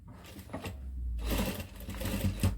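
A sewing machine runs steadily while stitching a folded petticoat hem, a close, even mechanical whirr with soft rhythmic ticking that starts after a brief pause and continues to the end.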